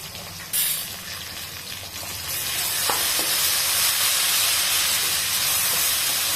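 Ginger garlic paste sizzling in a pan over a low flame, a steady frying hiss that swells and grows denser after a couple of seconds, with a few faint stirring clinks.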